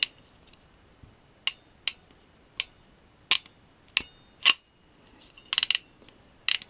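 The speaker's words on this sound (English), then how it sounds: "You have your typical ratchet system." Haisstronica crimping pliers clicking through their ratchet mechanism, a string of sharp, close metallic clicks spaced unevenly, some single and some in quick clusters, against near silence.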